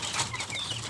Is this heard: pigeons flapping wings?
yes